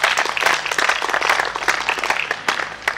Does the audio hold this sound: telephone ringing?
no